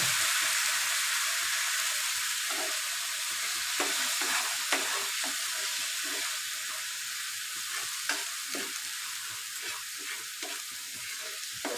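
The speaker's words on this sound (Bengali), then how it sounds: "নেড়ে নেড়ে চিনির সিরাপটা একটু ঘন করতে হবে।" Sugar syrup for apple chutney being stirred in a pan, a soft steady bubbling sizzle with intermittent spoon scrapes and taps against the pan, close and fairly quiet.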